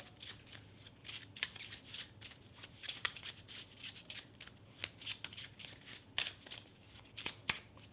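Playing cards are shuffled close up during a card trick in quiet, steady riffles and soft shuffling strokes with occasional sharper snaps, no talking.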